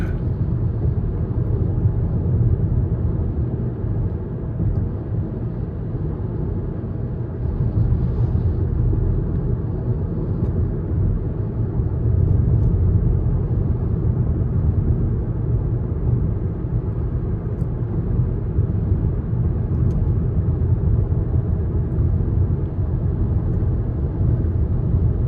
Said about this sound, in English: Wind noise not bad, I can hear it, but it's a 4-door sedan.